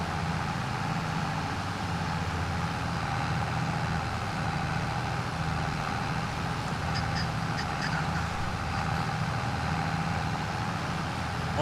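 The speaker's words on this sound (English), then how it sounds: "They need some tunes in this tractor." A tractor engine drones steadily in a farming video game, a continuous low rumble running the whole way through with faint game sounds layered over it.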